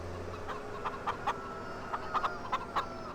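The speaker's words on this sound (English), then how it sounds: "I hear chickens." Farm chickens clucking: a string of short, moderately close clucks in loose bursts over steady low background noise.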